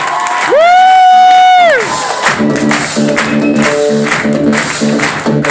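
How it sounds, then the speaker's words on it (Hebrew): At a stand-up comedy show, a loud sustained whoop rises from the audience, then gives way to crowd cheering and clapping that continue with scattered shouts. "כפיים ואיתמר!"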